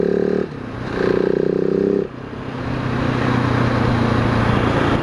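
A 2018 Husqvarna 701 SM single-cylinder motorcycle with a titanium link pipe and the baffle fitted idles and blips its throttle, two short revs rising over a steady low drone, moderately loud and close.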